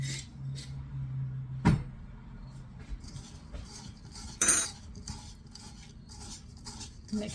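A utensil mixing nuts with light brown sugar in a bowl, giving faint irregular scraping and rubbing with a couple of sharper clinks against the bowl, quiet and close, without voices.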